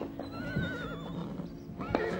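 A horse whinnies in a long wavering call and then gives a shorter snort near the end. Faint stable noise sits underneath, with no speech.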